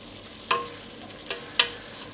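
Garlic, onion and bacon stirred in olive oil in a pot, with a quiet, steady sizzle broken by three distinct scraping clinks of the spoon.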